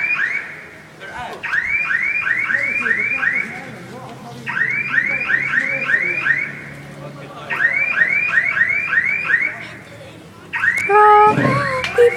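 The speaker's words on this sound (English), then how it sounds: "they made a car alarm go off." A car alarm goes off nearby at a fireworks show, cycling through bursts of rapid warbling tones separated by short gaps, loud and insistent, with a brief harsher tone pattern at the end.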